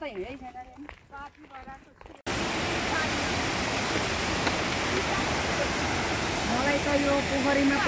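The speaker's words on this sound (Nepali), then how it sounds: "नजिकबाट मोहिनी झरना" Mohini waterfall, a loud, steady roar of rushing water heard up close, beginning abruptly after a short stretch of talking and holding a dense, unbroken wash with faint voices under it.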